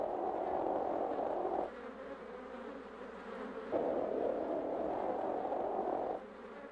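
Honey bees buzzing in a dense, steady drone that swells louder, drops to a softer hum, then swells again, close and continuous with no talk.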